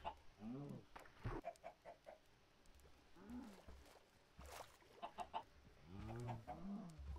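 Chickens in the video game Minecraft cluck repeatedly in short bursts, several birds close by, with a few sharper squawks scattered through the stretch.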